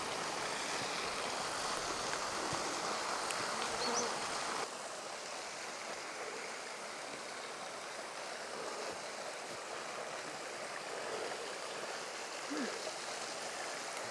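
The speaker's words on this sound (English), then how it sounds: "there's a babbling brook" Steady rushing and burbling of a small babbling brook, continuous and fairly soft, with no other prominent sounds.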